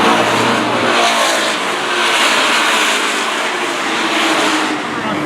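Race cars roar past at Stafford Speedway during a Kids Night event, a dense, loud wash of engine noise swelling and fading as the pack passes.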